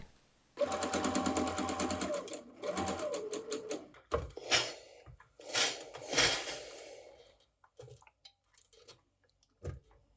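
Sewing machine stitching the ends of a sleeve facing together, right sides together, running in several bursts of rapid stitching separated by short pauses and handling noises, close and fairly quiet.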